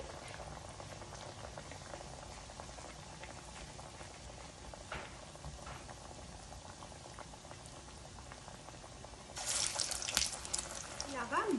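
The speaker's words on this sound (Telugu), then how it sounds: "ఇలా ఒత్తుకుని ఈ నూనెలో వేసుకోవాలి మీడియం ఫ్లేమ్లో పెట్టుకోండి" Ash gourd fritters dropped into hot oil over a medium flame, a soft, steady bubbling fry that swells louder and busier near the end as more batter goes in; faint and fairly close.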